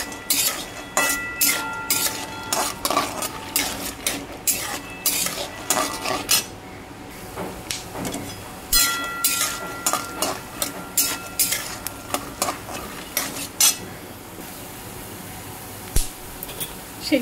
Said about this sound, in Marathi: तेलामध्ये शेंगदाणे व्यवस्थित फ्राय करून घ्यायचे।